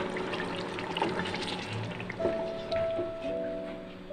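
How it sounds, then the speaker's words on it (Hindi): Hot water pours into a pot of half-cooked chicken in a kitchen, making a close, bubbling, gurgling splash that swells and fades in short bursts. "इसमें गर्म पानी डालेंगे।"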